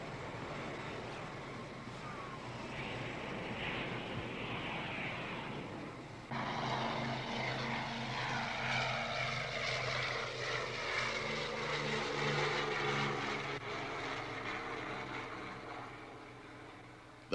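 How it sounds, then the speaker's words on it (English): F-4 Phantom jets returning to the Da Nang airfield, a steady roar of aircraft engines that swells louder as the planes approach and pass overhead, with no one talking. "They count the planes as they come in."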